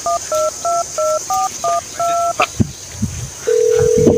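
A telephone number is dialed by keypad: about eight short, evenly spaced dual-tone beeps in quick rhythm, followed by a few faint clicks and then a steady tone that continues to the end.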